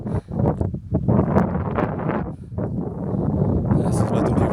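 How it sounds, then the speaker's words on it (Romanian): Wind buffeting the microphone at a mountain radio-TV station near Vf. Lapoș, a loud rough roar in gusts throughout, with brief voice sounds in it. "Hai să-ți bate un pic vântul."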